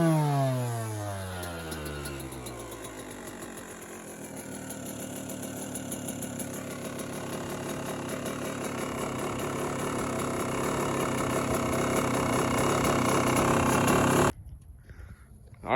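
A Yamaha YZ125 two-stroke dirt bike engine fires up and revs, its buzzing pitch sweeping up and down in repeated climbs before settling into a loud, raspy, sustained rev that cuts off abruptly near the end.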